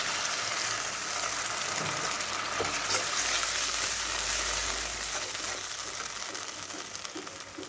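Ground tomato paste for a fish chop curry frying in a pan as a little water is added, producing a loud, dense sizzle and bubbling hiss that holds steady with occasional clicks and scrapes.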